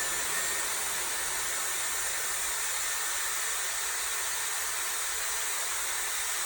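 A Dyson Airwrap hair styler blows a steady cool-shot stream of air, a continuous loud whooshing hiss that holds unchanged and nobody speaks over it.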